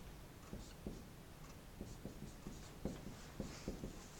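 Pen or marker writing the word cathode on a board, a quiet run of short scratchy strokes and taps at an uneven rhythm, close and faint, with no talk.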